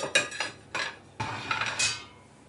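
Metal roasting pan holding a herb pork roast handled and slid into an oven, several sharp clanks and scraping knocks in close succession, nearby and moderately loud with no talking.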